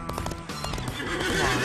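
A horse whinnies while hooves clip-clop in a quick rhythm, crisp and close, with a synthetic, game-like quality, from Disney Infinity on Wii U.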